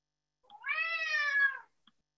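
A cat meows once in a drawn-out, clear call of about a second, close and alone in an otherwise quiet room during an online meeting.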